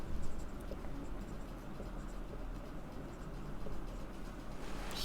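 Steady scratchy writing on a board during a class lesson, a continuous dry scraping texture at moderate level, close by with no talk.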